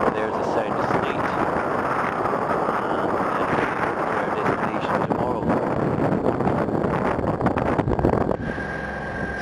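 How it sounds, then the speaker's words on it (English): Strong wind buffets a small cruising boat off Scotland's west coast at sea, a loud continuous rushing roar with heavy gusting on the microphone, and voices mixed in beneath it. "The wind's fairly picked up, though"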